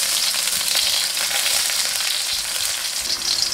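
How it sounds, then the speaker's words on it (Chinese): Garlic slices stir-frying in hot oil in a wok, a steady, loud, close sizzle with faint scraping of stirring throughout, no voices. "另起锅热油，油热把蒜片倒进来，"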